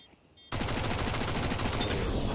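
Counter-Strike gunfire during an esports match: after half a second of quiet, a sudden loud burst of rapid automatic shots rattles on without a break to the end.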